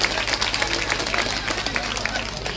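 An audience at a Bhagavat katha in Khoda, Noida claps loudly and continuously, a dense close patter of applause filling the hall with a low hum underneath.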